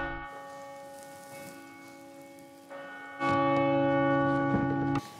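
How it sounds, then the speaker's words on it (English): An Angelus church bell rings on Irish television, steady overlapping bell tones that swell much louder and fuller for a couple of seconds before easing back, with no voices. "That's the Angelus."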